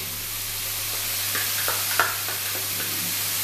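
Ginger, garlic and green chili paste frying in a pan, a soft, constant sizzle under a low steady hum, with a few light stirring clicks and taps.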